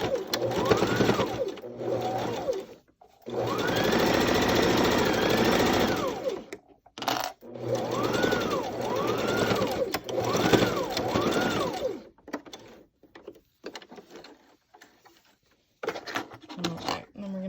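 A sewing machine stitches a single-layer cotton face mask in several bursts of rapid, whirring runs, some long and some short, separated by pauses and small handling clicks near the end.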